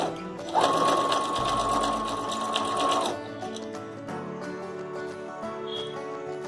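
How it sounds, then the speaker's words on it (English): A sewing machine stitches fabric for a boutique-style dupatta, running in one loud, steady burst of fast whirring for about three seconds, then stopping and leaving a quieter hum and faint handling noise. "place this fabric and stitch it"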